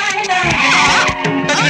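A vehicle brakes suddenly, its tires skidding in a short, harsh squeal that swells and breaks off in bursts over less than two seconds, loud and close.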